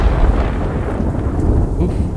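Rumbling thunder during a storm in Ghost of Tsushima, a loud, continuous low roll with rain-like hiss filling the whole stretch, no talk over it.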